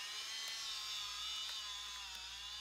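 A Milwaukee M18 cordless pipe threader runs steadily, giving a continuous high-pitched motor whine that stays even and close for a couple of seconds with no talking.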